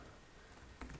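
Quiet keyboard typing on a computer, a soft steady patter of key clicks over a low hiss, with a slightly louder cluster of taps near the end; no voices.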